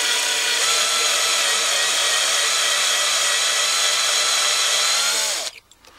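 A power drill with a 4mm bit whines steadily at high speed, drilling into a metal rivet on a lock close up, then cuts off abruptly near the end.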